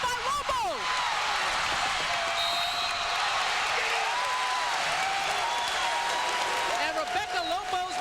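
A crowd at a women's college basketball game, UConn against Tennessee, applauds and cheers in a sustained roar, with a commentator's voice talking over it throughout.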